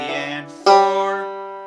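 A banjo plays the opening phrase of Banks of the Ohio in a beginner picking pattern, a few plucked notes followed by one bright ringing strum that slowly decays, close and clear with no voice.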